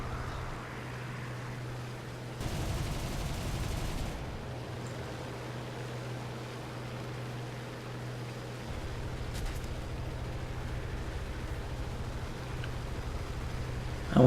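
A Bf 109 G-14 fighter's guns fire in War Thunder: one sustained burst of about two seconds stands out sharply from a constant low engine drone that continues before and after.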